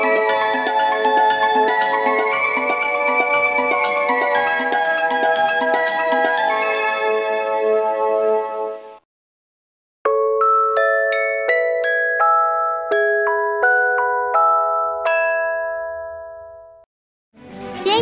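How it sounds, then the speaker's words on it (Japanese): A discontinued onboard chime from the Tokaido Shinkansen, in use for only four years, plays a bright melodic phrase of sustained bell-like tones. After a short silence, a second sequence of separate struck chime notes rings out, clear and loud, with no voices. "わずか4年で使用停止された幻のチャイムがあることをご存知ですか？"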